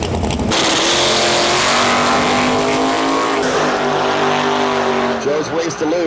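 Vortex-supercharged small-block Ford in a Mustang at a street-class drag race, its loud sustained engine roar holding steady and then easing off as the throttle lifts and it coasts, with an announcer talking over it.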